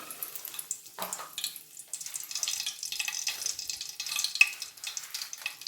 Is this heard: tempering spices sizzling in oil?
yes